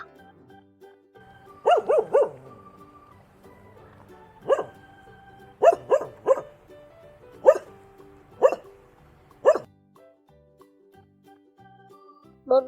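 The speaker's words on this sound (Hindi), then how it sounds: "कुत्ता," A farm dog barks sharply and close by, a quick cluster of yaps followed by single barks spaced a second or so apart, with quiet gaps and no voices.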